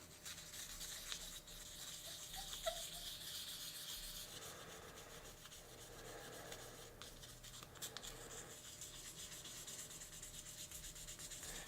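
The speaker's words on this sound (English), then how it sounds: "So I'm going to do a little bit of wet sanding before I do my stripes." Car paint on a Chevelle is wet sanded by hand, a soft continuous rubbing hiss that rises and falls in strokes, fairly quiet and close, with no talking.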